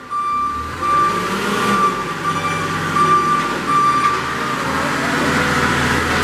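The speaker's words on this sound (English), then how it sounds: "Backup alarm." A backup alarm on a 2016 Princeton PB55.3 piggyback forklift with a Kohler engine beeps in a steady repeating rhythm over the low rumble of the idling engine, clear and close.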